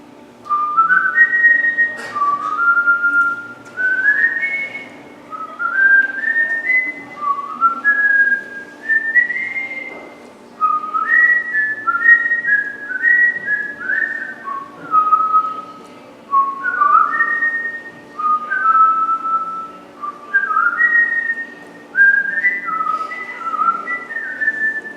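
A single person whistles the Indiana Jones theme at close range, phrase after phrase of bright rising melodic notes with short breaths between, continuing unaccompanied for the full stretch.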